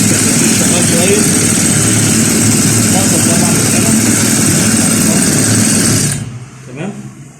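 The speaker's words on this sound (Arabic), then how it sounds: "دورنا الموتور وثبتنا الكركبين شغال كويس" A small agricultural sprayer engine runs after its carburetor has been cleaned and refitted, a loud, steady buzzing drone that cuts off abruptly near the end, leaving a brief quieter tail.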